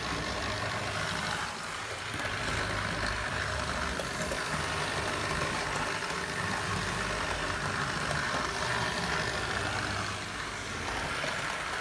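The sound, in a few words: Hornby GBRF class 50 model locomotive running in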